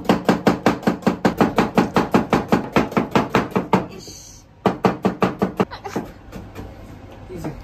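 Onions chopped on a board with a knife, a fast steady run of sharp, close knocks that pauses briefly, resumes in a shorter burst, then trails into quieter scraping.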